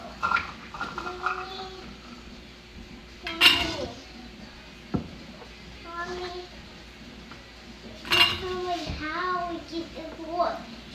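A metal funnel clinks against glass quart canning jars during cranberry juice canning, with a few sharp, bright clinks and some scraping nearby, separated by quieter stretches of kitchen handling.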